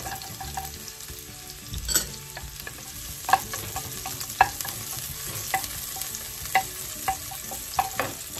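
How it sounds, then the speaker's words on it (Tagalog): Ginger and shallot sauté in hot oil in a home kitchen, a soft steady sizzle broken by repeated sharp spatula clicks and scrapes against the pan, close and unhurried, with no talking. "Kapag mainit na yung mantika natin, ilagay na po natin yung ginger. Na rin natin ang ating pong shallot."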